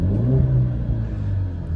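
The 2.3-liter four-cylinder engine of a 2020 Ford Mustang High Performance Package hums with a low, steady rumble heard close by, with slight revving swells over about two seconds.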